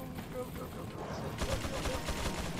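Gunfire in Resident Evil 4 on Professional difficulty, a dense run of shots growing busier and louder in the second half, mixed with game noise and a voice talking over it.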